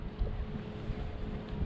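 Steady wind rumbles across a microphone in an open park, a low, continuous buffeting roar with no voices, lasting under two seconds.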